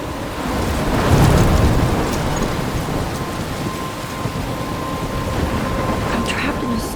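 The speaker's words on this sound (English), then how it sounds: "I'm trapped in a storm?" A heavy thunderstorm with rain roars throughout the opening of the video game Life is Strange Remastered. Dense, loud rainfall and a low thunder rumble swell near the start, with a steady faint tone running under the storm.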